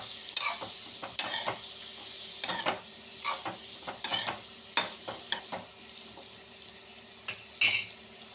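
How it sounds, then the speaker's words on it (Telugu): Ridge gourd fries in oil in a pan with a soft sizzle while a utensil stirs it, producing irregular clinks and scrapes close by, with no voices. "ఇప్పుడు ఇందులోకి కొంచెం పొట్లకాయ వేసుకుందాము. పొట్లకాయ వేగాలండి."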